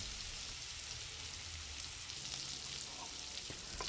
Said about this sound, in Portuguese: Frite um pouco de alho com um pouco de cheiro verde.